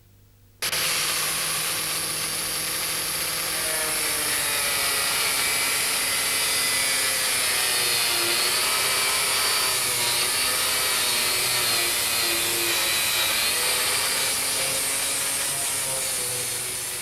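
A steady, high-pitched whirring hiss of a power sander with a soft disc grinding against a metal car body panel runs continuously after a sudden start.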